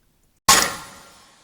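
Layered percussion samples from the Punch pack combine into one loud rock and metal impact: a single sharp, bright metallic crash with a long ringing tail, heard alone.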